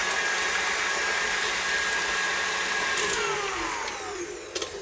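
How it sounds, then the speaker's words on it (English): A blender whizzes five eggs, a loud steady whirring motor that runs close up for several seconds, then winds down with a couple of clunks at the end. "I'm just going to quickly whiz those up."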